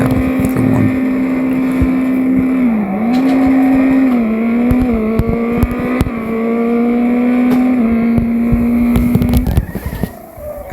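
Race car engines howl in a video game race, one loud sustained engine note rising and dipping with gear changes and throttle, steady and close for about ten seconds before cutting off near the end.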